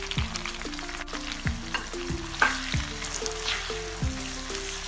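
Chopped tomatoes and spices sizzle loudly in a hot pan while being stir-fried for a Chinese chilli salan, with steady frying hiss and repeated scraping stirs about every second and a quarter.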